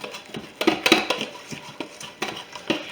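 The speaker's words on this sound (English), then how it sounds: "I'm going to stir until it's very well combined" A spoon stirs cranberry pecan bread batter in a bowl, giving irregular clinks and scrapes in quick succession, close and fairly loud.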